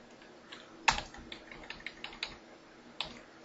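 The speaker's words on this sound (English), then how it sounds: "Heck, I'll just type them in." Someone types on a computer keyboard, a quick irregular run of light key clicks with one sharper tap early on, close and clear without any talking.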